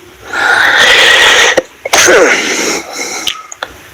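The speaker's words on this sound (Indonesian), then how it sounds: "Mohon maaf batuk" A single loud, close burst from a man during a spoken Bible lesson, sharp and explosive like a cough or sneeze, followed by a brief catch of breath and small mouth sounds.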